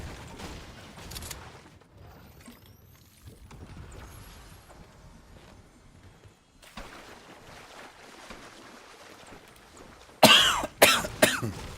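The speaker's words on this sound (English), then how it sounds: "Sorry for all the coughing" Streamer coughing during a Fortnite gaming session: quiet room noise for most of the time, then a sudden loud burst of several harsh, close coughs near the end.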